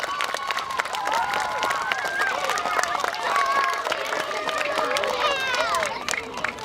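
Audience applause at an Arbor Day ceremony: a crowd claps steadily for about six seconds, a dense continuous patter with a few voices and chirping sounds mixed in before it starts to thin at the end.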